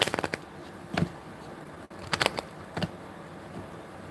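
A deck of playing cards being shuffled, with a few short bursts of riffling and snapping separated by quiet pauses, close and fairly soft.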